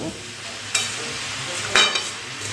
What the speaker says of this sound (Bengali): এই লাউটা এক থেকে দুই মিনিট একটু ভেজে নেব